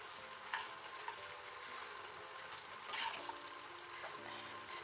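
Lemon semiya (vermicelli) is stirred in a pan, with soft, steady scraping and light sizzling and two louder scrapes near the start and middle, all at low level with no talking.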